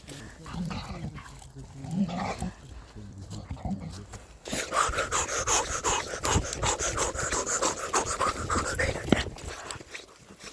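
A bull terrier pants rapidly and steadily close by in a forest, with a person talking over it at first and brief footsteps or rustling.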